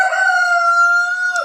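A White Leghorn rooster crows loud and close in one sustained, tonal cock-a-doodle-doo call that fades at the end.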